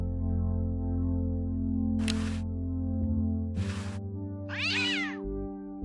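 A cartoon cat in the adventure game Day of the Tentacle gives two short meows followed by a longer, rising yowl, alone over a steady musical backdrop.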